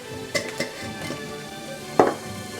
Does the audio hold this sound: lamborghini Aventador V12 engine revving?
no